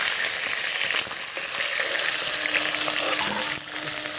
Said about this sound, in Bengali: মাছগুলো খুব সুন্দরভাবে ভাজা হয়ে গেছে